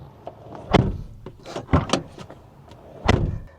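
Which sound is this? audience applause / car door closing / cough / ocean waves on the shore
car door closing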